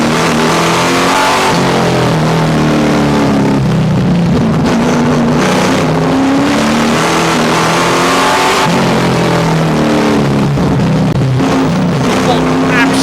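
A V8 stockcar engine roars loud and close around a raceway, its throaty note rising and falling with gear changes throughout, briefly dipping near the middle before surging again.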